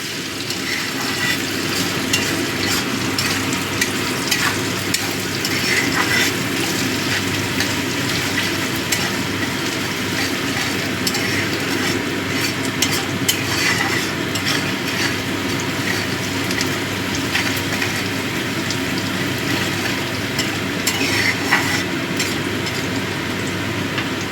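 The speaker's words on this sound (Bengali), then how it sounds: "পেঁয়াজটা আমার ভালো মতো ভাজা হয়ে গেছে।" Salted onions frying in a pan for egg telani, a dense, loud, steady sizzle with a faint rattle of stirring running unbroken throughout.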